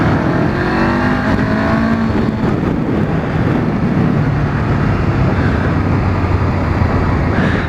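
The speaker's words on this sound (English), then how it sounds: "As I push the twin cylinders for more power" A 2013 Honda CB500F twin-cylinder motorcycle engine pulls harder under acceleration, a loud steady drone with rising pitch under heavy wind rush, no speech.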